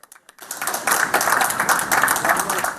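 Applause greeting a returning search-and-rescue team from ministry staff, diplomats and the public, a dense steady patter of many hands clapping that swells after a brief quiet start and holds at full strength.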